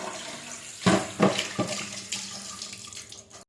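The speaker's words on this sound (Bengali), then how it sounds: "মাছগুলিকে আমি ভালো করে ধুয়ে নিচ্ছি" Fish being washed in water in a basin: close, continuous sloshing and splashing with a few stronger splashes, heard alone.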